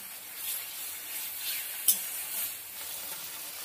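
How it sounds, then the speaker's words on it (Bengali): Spice masala stirred in a kadai: a faint, steady sizzle with soft scraping, plus one brief clack of the spoon against the pan midway. "ভালো করে নাড়তে হবে, কড়াতে যেন মশলাটা লেগে না যায়।"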